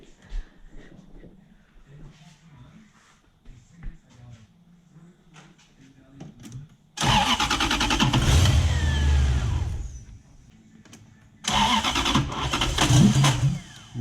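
A Toyota 1UZ-FE V8 fitted in a BMW E36 coupe cranks loudly in two bursts, about two and a half seconds then just over two seconds, after quiet shop sounds with low talk.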